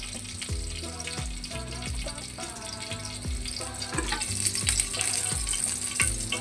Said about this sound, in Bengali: আর এখানে ফোড়ন দিব গোটা জিরে।